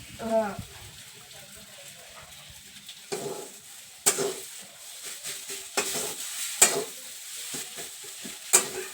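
A spoon mashes an onion and tomato mixture for brinjal bharta, making intermittent soft squelches and scraping knocks against the vessel, with quiet gaps between strokes; a voice is briefly heard at the start.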